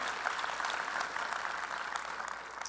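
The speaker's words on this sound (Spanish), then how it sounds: "Es un aplauso al Señor por ellos" Steady applause from a church congregation during a sermon, a dense continuous patter of many hands clapping at even loudness throughout, with no voices over it.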